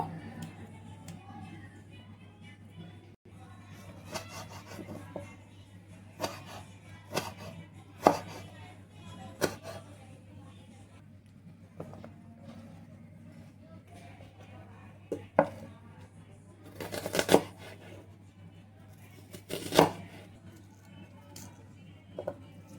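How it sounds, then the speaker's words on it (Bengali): A knife chopping through the inner part of a tomato on a board in a home kitchen, with scattered sharp taps at irregular intervals and a few louder clusters over a steady low hum. "তো টমেটোর ওই ভিতরের অংশটা কেটে নেব।"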